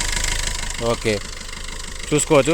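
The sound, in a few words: engine of a 2017 Maruti Swift VDI diesel car running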